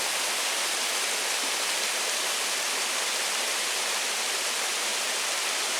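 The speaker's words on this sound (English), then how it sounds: "Pretty neat little set of cascades" A waterfall cascades in Blowing Rock, a steady, dense rush of falling water that holds an even level throughout, close and loud, with no voices.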